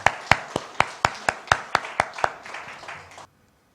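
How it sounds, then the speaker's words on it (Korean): A church congregation at a New Year's Eve service claps in steady unison, about a dozen sharp, evenly spaced claps, then stops abruptly into silence. "하나님께 영광의 박수 올려드리겠습니다"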